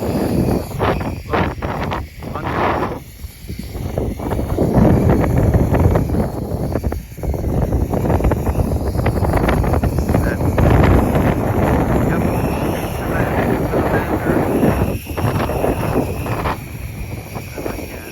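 Strong outdoor wind roars and buffets the microphone in heavy, uneven gusts over about eighteen seconds, with a voice talking intermittently underneath.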